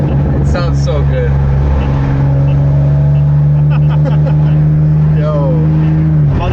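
A loud, deep engine drone from inside a BMW G82 M4 with S58 engine and catless downpipes, holding a low steady pitch with brief rises, while people talk over it.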